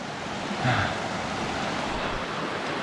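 Steady rushing water of a mountain stream at a trail crossing on a hike to Miller Peak, a broad continuous wash heard up close with no talking.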